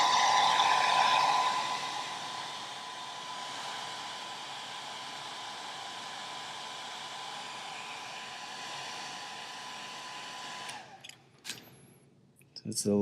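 A heat tool blows steadily at low setting while warming Worbla thermoplastic onto an action figure, a constant loud whooshing hum that cuts off near the end, followed by a few small clicks and handling sounds.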